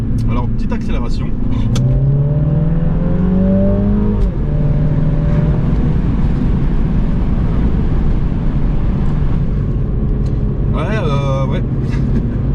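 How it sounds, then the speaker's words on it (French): A Mini Cooper S Trafalgar accelerates, its engine note rising through the gears with a pause between shifts, loud and close from inside the car, with a brief chirp of another sound near the end. "Alors petite accélération."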